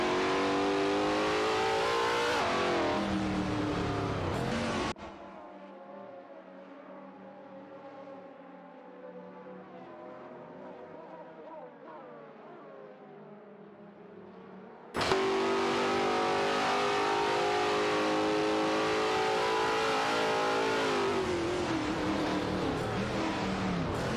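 Race cars accelerating in an AI-driven racing game, loud engine revving that cuts to a much quieter, muffled stretch for ten seconds before the roaring acceleration returns at full volume.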